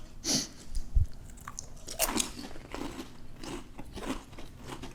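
Walkers Monster Munch crisps (UK) crunch loudly between the teeth at close range: a handful of sharp bites followed by brittle chewing crackles, with no talking.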